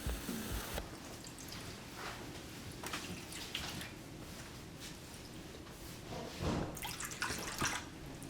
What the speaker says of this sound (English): just gonna pour some water in there as well